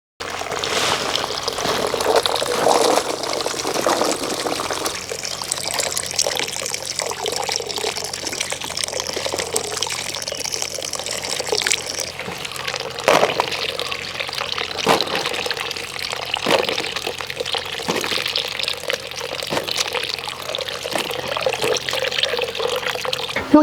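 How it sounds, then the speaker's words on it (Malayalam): Bilimbi fruit rinsed under a running kitchen tap, a steady close splash and trickle of water that continues throughout with small fluctuations, no talking. "ഇരുമ്പുപുളി നമുക്ക് കഴുകി എടുക്കാം കേട്ടോ. നന്നായിട്ട് ഒന്ന് കഴുകി വെള്ളം തോരാനായിട്ട് വെക്കാം."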